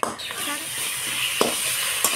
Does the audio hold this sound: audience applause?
no